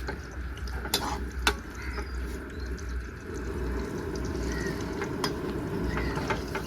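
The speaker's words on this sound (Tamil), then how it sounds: "கொஞ்சம் எண்ணெய் வந்து கொஞ்சம் சூடான பிறகு வெங்காயத்தை வந்து போட்டுக்கலாம்" Onions frying in hot oil for spicy prawn thokku, a Tamil dish: a steady, dense sizzle under the whole stretch, with a few sharp clinks from a pan or spoon.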